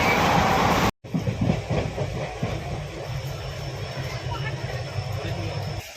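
The Vibhuti Express rolls along with a steady rumbling roar and faint clickety-clack of the wheels, heard close from an open train door after a brief cutout; the wind and rail noise stay loud and continuous throughout.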